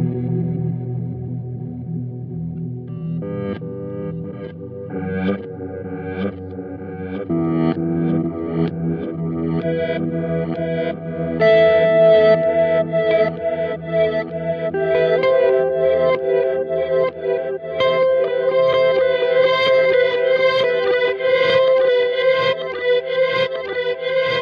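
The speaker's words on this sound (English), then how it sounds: "So in reverse, it adjusts the sense of attack for the delay sound" Electric guitar through a Boss DD-200 digital delay pedal in reverse mode, with swelling, backward-sounding repeats layering over picked notes and chords that build into a dense, washy cascade, loud and with no talking.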